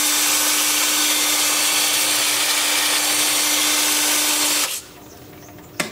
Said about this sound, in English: then I'll switch to my 2-inch sanding disc